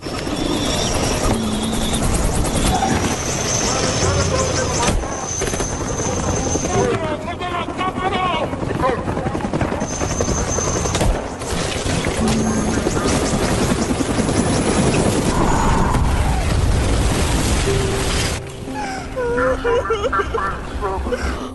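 A helicopter flies loudly and steadily through the whole stretch, its engine and rotor noise continuous, with brief bird-like calls and other effects mixed in.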